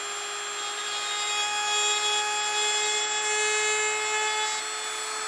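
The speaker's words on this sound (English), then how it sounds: "This is a diamond burr on here, a really small one." A small diamond burr in a rotary tool grinds into stone, a steady high-pitched whine with a constant tonal hum and a gritty hiss, close and continuous for the whole stretch.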